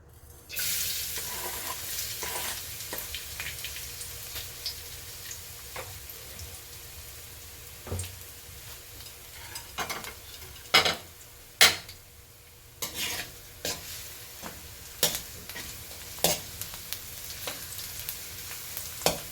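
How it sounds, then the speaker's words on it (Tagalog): Garlic fries in hot oil in a pan, making a continuous bright sizzle with scattered clicks and louder bursts of stirring or handling toward the end. "mainit na ang ating mantika. Ilagay na natin ang ating bawang."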